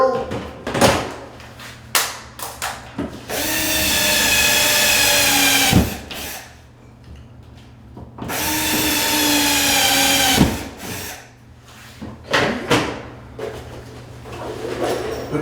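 A power drill bores holes for closet shelf rod anchors in a walk-in closet, giving two sustained whining bursts of a few seconds each, with knocks and handling clatter between them.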